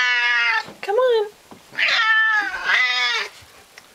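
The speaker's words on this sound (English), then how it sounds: "Doesn't she have a lovely meow?" A pet cat meows repeatedly, loud and close, with several drawn-out meows broken by short pauses, while a person talks to it in between.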